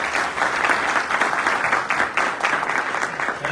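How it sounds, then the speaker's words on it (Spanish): Sustained audience applause at a book presentation and press conference, a dense, even patter of many hands clapping throughout, fairly loud and with no speech over it. "un fuerte aplauso también para Carlos."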